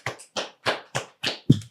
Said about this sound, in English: round of applause for the kittens